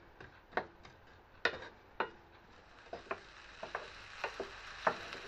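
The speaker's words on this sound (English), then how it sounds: "we're going to fry these off until they've softened" Chopped onion and garlic frying in a pan until soft, heard as a quiet sizzle with irregular light ticks and taps from stirring, close and faint, with no talk.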